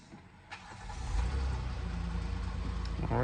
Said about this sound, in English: We're gonna crank it up and see if it still struggles to start up.